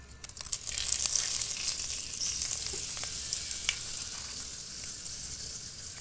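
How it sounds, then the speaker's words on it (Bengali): Bay leaf and dried red chilli sizzling in hot oil as a tempering, a steady bright crackle with scattered pops, close and fairly loud throughout, no voices. "তেলের মধ্যে দিয়ে দিচ্ছি ফোড়নের জন্য তেজপাতা, শুকনো লঙ্কা"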